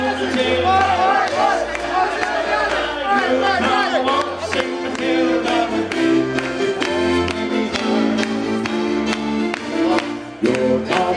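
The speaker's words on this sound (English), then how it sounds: "let's all give the Aussies a big round of applause" A crowd at a 1999 poker Tournament of Champions at the Orleans in Las Vegas applauds and cheers loudly and continuously for the Australian players, with scattered shouts and whoops.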